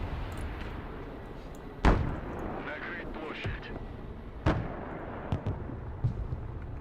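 Artillery firing smoke shells in the video game Broken Arrow: a couple of heavy booms and a few lighter thuds spaced out over a continuous game rumble, with a voice talking intermittently.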